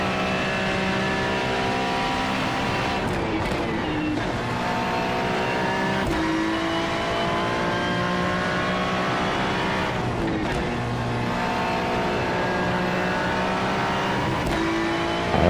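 A GT3 race car in iRacing screams at high revs in one continuous, loud engine note, pitch swooping up and down through gear changes and braking, with no talk over it.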